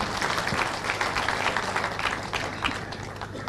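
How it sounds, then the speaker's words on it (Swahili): A crowd at a farewell party in Kericho, Kenya, breaks into dense, continuous applause, with many hands clapping at once under a general crowd murmur. "Makofi kwa Deputy Governor"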